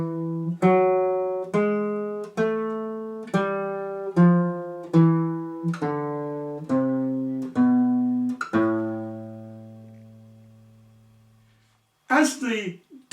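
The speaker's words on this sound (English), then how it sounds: "ascending melodic minor scale and a descending melodic minor scale" A melodic minor scale played note by note on a pitched instrument, rising and then falling in an even rhythm of about a dozen clear, separate tones, with the final note left to ring out.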